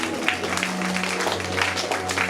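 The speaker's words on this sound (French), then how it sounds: "On applaudit, s'il vous plaît." An audience applauds at a church celebration for a pastor's 70th birthday, a steady wash of dense clapping throughout, with a voice faintly beneath it.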